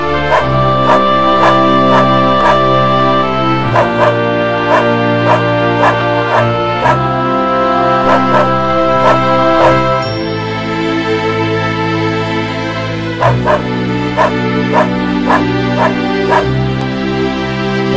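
A dog barking repeatedly at a swan it has injured outdoors in Southwater, loud and close, in bursts of sharp barks and yips over a continuous tonal music bed, with no speech.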